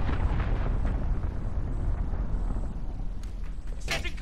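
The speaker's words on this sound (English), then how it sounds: "Allied cruise missile launched." A cruise missile strike in Call of Duty: Modern Warfare (2019), a loud continuous roar of explosions and rumbling blasts with sharp bursts near the end, close and dense.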